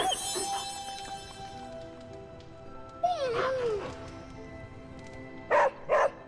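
A puppy in the Midnight Suns game gives a couple of quick, close yips near the end, following a stretch of soft tonal game music and sound effects.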